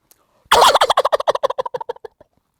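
A turkey call is worked by hand to imitate a gobble: a loud, rapid, rattling burst of about a dozen pulses that trails off quickly, up close and on its own.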